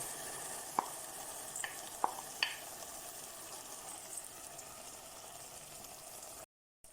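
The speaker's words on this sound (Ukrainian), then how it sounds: "Цибулька м'яка, вкидаємо пшоно" Rinsed millet tipped into softened onions frying in a pot for traditional Ukrainian kulish, a steady close sizzle with a few sharp scraping clicks of stirring early on, no talking, ending in a brief silence.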